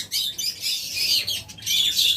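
Several caged yellow-collar birds call in shrill, high squawks and chirps, coming in rapid overlapping bursts close by with brief pauses between.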